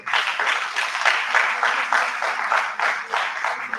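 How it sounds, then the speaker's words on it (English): A seminar audience gives a round of applause after a presentation on cut flower production in Nigeria, steady mid-sized clapping heard alone at moderate distance. "A round of applause."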